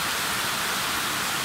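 Heavy rain pours steadily in a dense, even hiss, loud and continuous throughout with no gaps and no voices.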